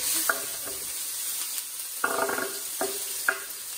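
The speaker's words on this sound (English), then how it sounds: "Get a close-up of that sizzle." Chopped food fries in a pan, a steady close sizzle with several stirring scrapes and clatters spaced through it.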